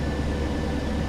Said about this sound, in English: The aeroplane sounds are still quite strong, so I'm just going to try and adjust them a bit.